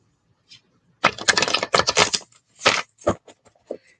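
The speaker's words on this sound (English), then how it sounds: "This deck is kind of hard to shuffle" A tarot card deck is shuffled by hand, a stiff deck giving dense bursts of riffling, flapping card noise broken by short pauses and a few sharper taps, close and fairly loud with no talking.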